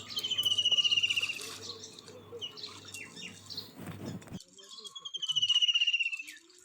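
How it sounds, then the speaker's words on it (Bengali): Birds singing outdoors in a Sundarbans village, with clear repeated whistling phrases at the start and end and shorter chirps between, set against a soft insect-like buzz and a brief rustle. "শুনতে পাচ্ছেন যে কি সুন্দর পাখির আওয়াজ"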